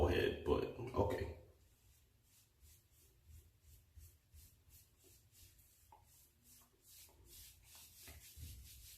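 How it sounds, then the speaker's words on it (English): Hair product is rubbed into hair to set waves, a soft rhythmic scrubbing and rustling heard close up. A louder burst of rubbing comes at the start, then lighter repeated strokes follow. "Alright, rub this in your hair."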